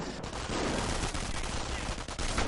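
Dense machine-gun fire from a real-time strategy match in a tournament semifinal, a steady wash of rapid bursts running the full length with small battle noises mixed in.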